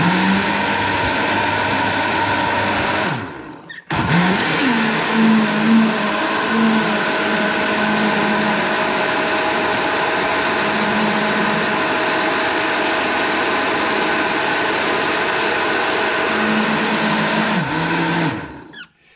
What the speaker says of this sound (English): Let it settle a second and then we'll whisk it again